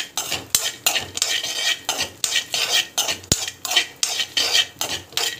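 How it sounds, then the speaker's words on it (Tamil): Nuts fry in ghee for payasam while being stirred. A spoon scrapes the pan in rhythmic strokes about twice a second, close and clear, over a light sizzle, with a couple of sharp knocks against the pan. "நட்ஸ் எல்லாம் வந்து நல்லா வந்து ஃப்ரை ஆகட்டும்."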